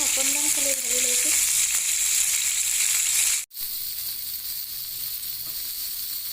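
Paneer sizzles in hot oil in a pan, a loud continuous frying hiss broken by a brief stir or lift midway, then steady sizzling again with no talk.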